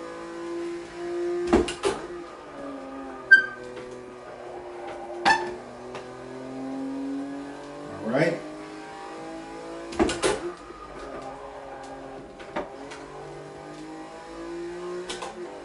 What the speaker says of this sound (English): I think I downshifted there while I was trail braking.